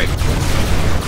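Gunfire in the real-time strategy game Command & Conquer: Tiberium Wars comes as a short, dense, loud burst of rapid shots.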